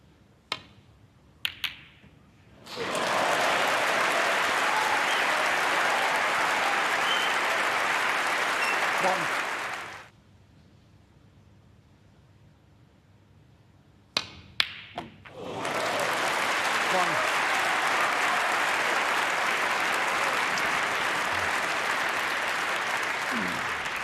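Loud crowd applause at a snooker match at the Masters 2025, Alexandra Palace, erupting after a shot, in two long sustained bursts separated by a brief lull with a few sharp knocks, commentary over it.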